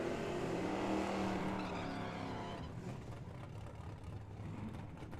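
A drag racing car makes its run at Firebird Motorsports Park, a loud engine roar that peaks early and then fades as it moves away, leaving a softer receding drone.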